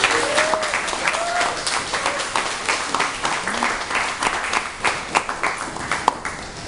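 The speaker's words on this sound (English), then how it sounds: "give Lorna another resounding round of applause" Audience applause at a Caribbean symposium gathering, steady dense clapping from a crowd in a hall, moderately loud and continuous, with a few faint voices mixed in.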